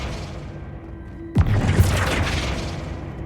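A Flipendo spell in Hogwarts Legacy goes off with a sudden loud boom and crash, then a dense magical whoosh that rumbles on and slowly fades, following a quiet stretch with a faint steady tone.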